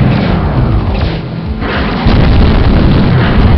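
Ionic turbines blowing up in the Hellbender space combat game, a loud, dense rumbling blast that dips briefly, then swells into a sustained roaring boom with no voices.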